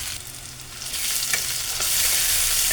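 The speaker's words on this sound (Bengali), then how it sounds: "আদা রসুন একটু ভেজে নেব, লাল লাল করে নেব।" Onion frying in a pan with crushed ginger and garlic added, a steady broadband sizzle that grows louder toward the end, with faint stirring scrapes and no voices.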